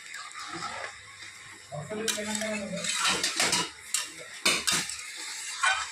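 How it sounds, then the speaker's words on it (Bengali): Garam masala powder being stirred into a finished lentil-fritter kofta curry in a pot, a spoon scraping and clinking against the metal in irregular bursts while a voice talks at the start. "নামানোর আগে দিয়ে দিচ্ছি একটু গরম মশলার গুঁড়ো নেড়ে চেড়ে দিচ্ছি"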